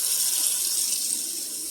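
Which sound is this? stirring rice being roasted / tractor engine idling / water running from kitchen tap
water running from kitchen tap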